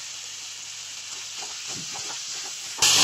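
A spoon stirring chicken filling in a frying pan with chopped green chillies: a steady sizzle and hiss under soft scraping strokes, close and fairly quiet, ending in a sudden louder burst of sizzling.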